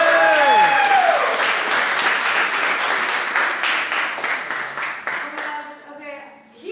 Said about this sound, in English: So would y'all please give a round of applause